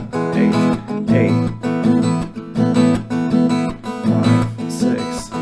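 Acoustic guitar strummed in a steady rhythm, chords changing about once a second, played clearly and up close with no voices.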